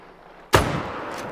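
A single gunshot rings out while hunting alligators, a sudden sharp crack after a quiet moment, followed by a lingering rumbling echo that slowly fades.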